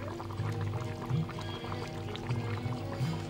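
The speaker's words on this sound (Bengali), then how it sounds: "এবার ঘি দেবো," Ghee pours into a pot of simmering boiled-potato curry, making a steady, close liquid pouring and bubbling sound that runs unbroken for a few seconds.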